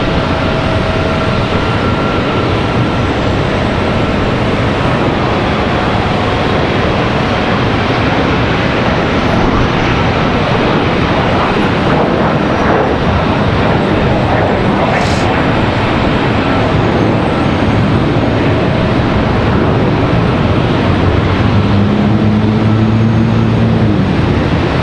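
Embraer ERJ 145 jet rotating early on takeoff at Charlotte Douglas, its engines giving a long, loud, sustained roar for the whole stretch, with brief murmured talk in the background.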